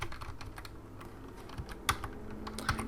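Computer keyboard keys clacking as C++ code is typed for an SDL 2 rendering tutorial, a quick irregular run of close taps with a few sharper, louder strokes and no talk.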